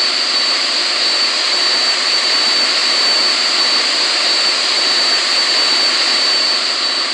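Steady jet-style aircraft engine roar from a plane in the flight game Simple Planes, a loud continuous drone with a sharp high whine, unbroken for the whole stretch with no voices.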